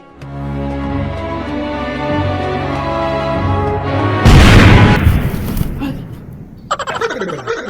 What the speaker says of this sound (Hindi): दुनिया के सबसे बड़का रॉकेट पड़ाका बम